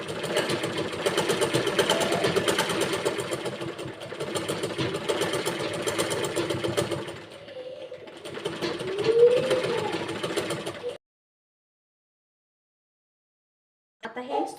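A domestic sewing machine runs steady, close stitching on a four-tuck blouse, with a short pause around the middle and then silence near the end before a brief return.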